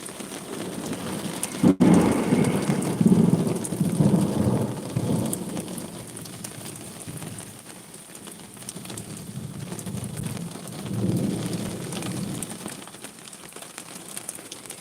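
A thunderstorm with steady rain pattering on surfaces and deep rolling thunder swelling twice, loud and close at first and again later, with rain continuing between.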